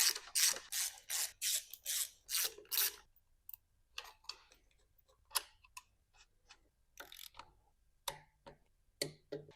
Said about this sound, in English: Need to tighten this oil feed line.